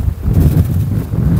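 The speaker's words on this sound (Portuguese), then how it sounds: "Vento muito forte, muito forte." Strong wind at the Mirante da Serrinha lookout beside a small town square, a steady low buffeting roar that blasts across the microphone without pause, loud and close with no talking.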